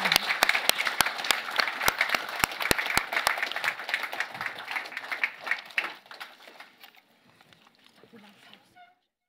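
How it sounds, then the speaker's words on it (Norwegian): Audience applause at a book launch event, a room full of hands clapping steadily and loudly, then thinning out and fading to scattered claps and quiet after about six seconds. "Gi dem en applaus"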